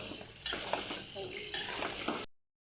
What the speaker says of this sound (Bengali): মাছগুলো সব ভাজা নিচ্ছি